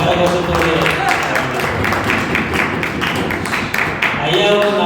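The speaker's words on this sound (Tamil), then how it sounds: "பலத்த கரகோஷத்தோடு" An audience at a pastors' meeting at the Shalom Center in Yelagiri breaks into loud, sustained applause, a dense wash of clapping that continues without a break.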